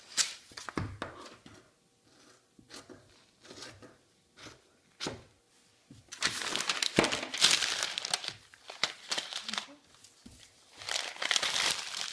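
Paper dress pattern sheets being cut and handled, with crinkling and rustling that comes in scattered bursts at first, then grows into a louder, denser stretch of crumpling and shuffling close by, with no talking.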